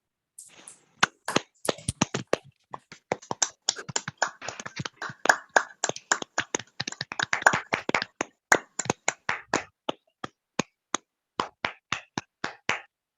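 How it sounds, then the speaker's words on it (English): A small audience at a poetry reading claps for poet Melissa Sussens, sparse and distinct hand claps spread over about thirteen seconds, fairly close and moderate in level, fading in number toward the end. "Can we have a round of applause for Melissa"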